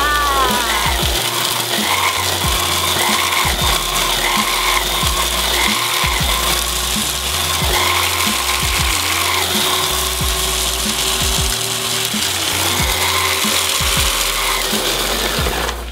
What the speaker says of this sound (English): I need a little bit more blending for that coconut shrimp consistency